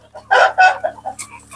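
Andijan black chickens and roosters, about four and a half months old, at a poultry yard crow in two loud close bursts, followed by softer clucks and short calls.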